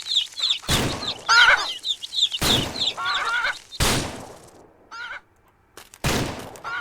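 Roosters in the Ranch Simulator video game crow loudly in repeated bursts, several calls overlapping close by, with short gaps of near quiet between them.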